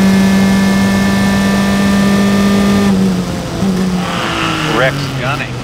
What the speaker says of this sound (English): Rex Gunning in that Lola T598, number 30 car